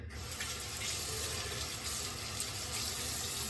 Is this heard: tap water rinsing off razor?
yes